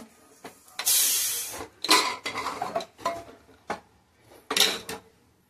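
A pressure cooker of vegetables for pav bhaji is opened after whistling, with loud metallic clanks and scrapes of lid and pot and short bursts of hissing, close and without talk.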